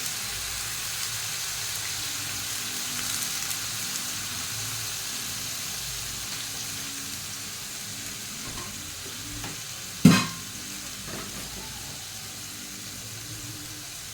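Food cooking in a pan after water is added, a steady broadband sizzle and bubbling running the whole time at moderate level, with one sharp clatter near the end and no talking.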